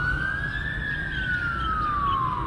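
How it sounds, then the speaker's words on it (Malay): Ambulance siren passing outside, a loud continuous wail whose pitch rises and then slowly falls, with a low traffic rumble beneath and no talking. "Ada ambulans bising sikit."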